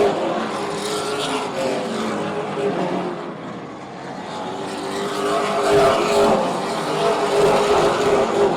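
Super late model race cars of the Easy-Kleen Super Late Model Series roar around an oval track at Oyster Bed during the Chapman Bros 150, a loud continuous engine din that rises and falls as cars pass.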